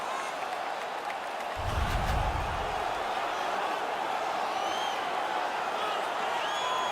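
Crowd cheering and applauding in an arena during a USA versus Russia IIHF hockey game in NHL 18, a broad continuous roar with a low thump partway through, heard without talk.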